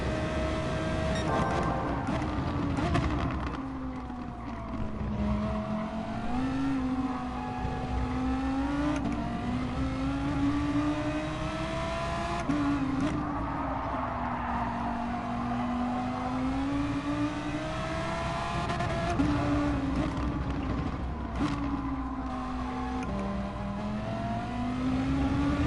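Ford GT race car engine in Gran Turismo Sport, droning continuously as it climbs and drops through gears, revving up and shifting repeatedly, loud and close throughout.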